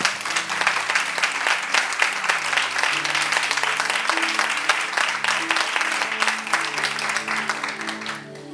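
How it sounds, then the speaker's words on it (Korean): A church congregation claps steadily in worship, a dense sustained round of applause lasting over eight seconds with a low musical tone underneath, tapering slightly at the end. "우리 하나님께 경배의 박수 올려드리겠습니다."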